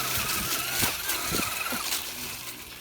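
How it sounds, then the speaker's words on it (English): A Traxxas Slash RC truck races nearby, its small motor whining in bursts as the tires spin and scrabble on the ground, rising and falling over a few seconds. "you guys can see it just spins the tires"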